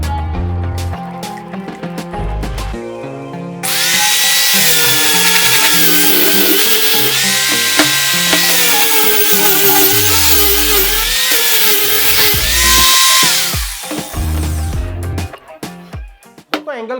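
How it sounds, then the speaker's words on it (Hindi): An ENON XE-4002 angle grinder fitted with sanding paper sands wood, its motor spinning up to a loud sustained whine with rough scraping for about ten seconds before winding down. "सैंडिंग पेपर लगाने के बाद हम क्या करेंगे, वुड को अच्छी तरीके से सैंड कर लेंगे"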